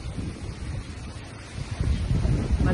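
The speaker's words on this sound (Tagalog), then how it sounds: "ang lakas ng hangin" Strong morning wind gusts on a stormy day in Romblon, with trees swaying. The wind roars steadily as close rumbling buffets against the microphone, building louder toward the end, with no voices.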